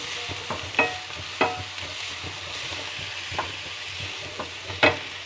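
Onions fry and sizzle in a pan for potato thoran, with a soft steady hiss broken by a few sharp spatula scrapes and knocks as they are stirred, close and fairly quiet.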